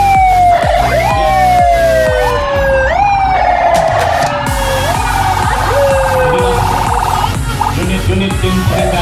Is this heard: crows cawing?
no